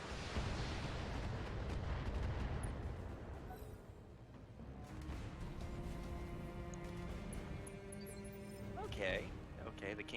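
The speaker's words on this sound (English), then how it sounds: "Firing all weapons." Mech weapons fire in the Battletech video game, heavy booming blasts and rumbling impacts, followed by lingering noise under a player's voice.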